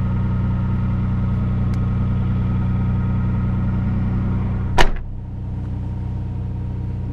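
A Nissan R32 Skyline GT-R idles as heard from inside the cabin, a steady low engine drone that is fairly subdued, broken by a single sharp thump like a door closing before the hum settles quieter.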